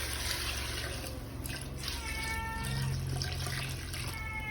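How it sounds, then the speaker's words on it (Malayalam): Water poured into sautéed beef curry masala in a cooking pot, a steady close pour with a faint trickling, splashing texture throughout and no talk. "അതിനകത്തോട്ട് വെള്ളം ചേർക്കും."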